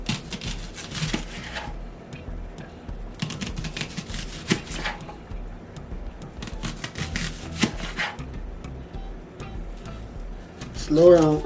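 A knife chopping onions, heard as clusters of quick crisp cuts in several bursts with short pauses between them, while a person talks over the chopping.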